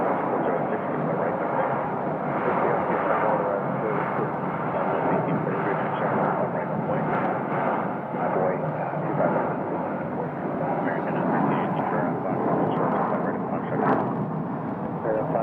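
A passenger airplane bound for Anchorage roars steadily at Phoenix Sky Harbor Airport, Terminal 4, a loud, sustained broadband engine rumble that holds for fifteen seconds with no break.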